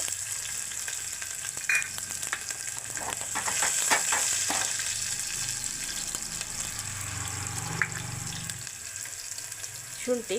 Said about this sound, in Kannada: ಎಣ್ಣೆಗೆ ಸಾಸಿವೆ ಹಾಕಿ, ಸಾಸಿವೆ ಹಾಕಿದ್ಮೇಲೆ ಬೆಳ್ಳುಳ್ಳಿ